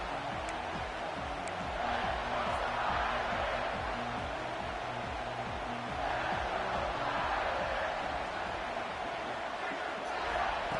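A stadium crowd in the college football video game NCAA 26 chants in a steady repeating rhythm, a loud, sustained roar rising and falling with the cadence.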